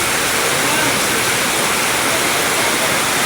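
Very heavy rain pours down in a steady, loud broadband roar under a dark sky near the sea, continuous and close with no break.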